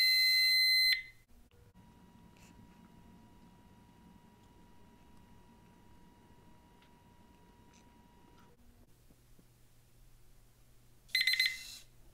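An electronic timer padlock beeping as its countdown runs out, with a loud burst of rapid high beeps, then a long stretch of faint hum, then another sharp beeping burst near the end.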